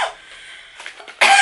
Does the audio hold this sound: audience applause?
no